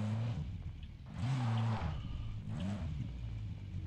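A car driven in Call of Duty: Warzone, its engine droning steadily and rising in pitch as it accelerates, with some rough tire and road noise, loud and close throughout.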